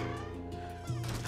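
Cat meowing in Luigi's Mansion 3, a soft, drawn-out mew sitting under a dense, sustained musical background, fairly faint and brief, with no talk.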